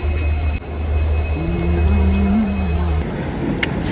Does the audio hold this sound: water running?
no